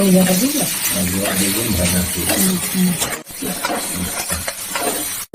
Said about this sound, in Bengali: সিদ্ধ করা বেগুনটা আর আলুটা ভাজে দিয়ে দিচ্ছি